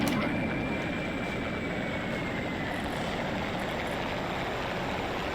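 Enemy aircraft in the video game Urban Assault flying overhead as a steady, loud engine drone with broadband rumble, continuous throughout.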